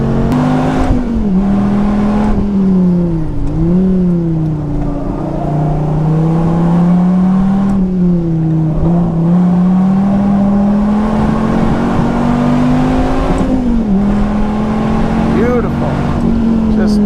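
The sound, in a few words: Dodge Viper ACR engine revving on track lap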